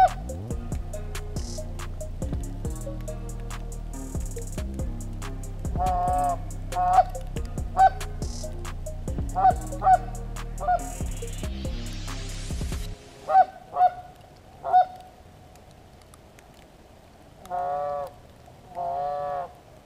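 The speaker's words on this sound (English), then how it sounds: "I swear that was just some quacking." Geese honk and ducks quack outdoors during a blizzard. The calls come as repeated nasal bursts, some near and some farther off, over a steady tonal drone, with no talking.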